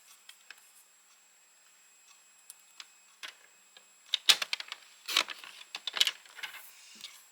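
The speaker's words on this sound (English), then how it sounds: "let's go ahead and cut our 2 inch." A paper trimmer cuts a 2 inch strip of paper for a handmade card, heard as faint, sparse clicks and soft snips that grow into a few sharper close-up ticks and scrapes near the end.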